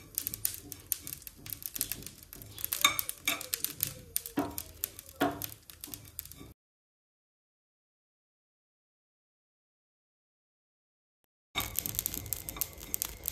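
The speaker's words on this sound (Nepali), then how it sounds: "यो चाहिँ अहिले मैले भुट्न लगाएको" Ingredients fry and are stirred in a pan, a close, dense crackle with rapid ticking and scraping, cut by about five seconds of dead silence before the sizzling resumes.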